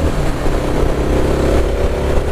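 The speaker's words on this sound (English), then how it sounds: "At first I thought the gurgle was going to bother me, but the performance trumps the sound." A Kawasaki KLX300SM motorcycle with a snorkel intake mod runs close and loud, its engine droning and revving with a throaty intake gurgle throughout.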